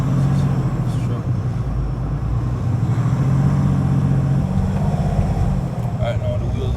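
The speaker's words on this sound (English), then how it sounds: "Right now the wheels are just slipping like crazy" A truck struggling for grip, wheels slipping with the differential lock engaged: a low, rumbling engine drone with wind noise over it, steady throughout, and a voice talking in the background.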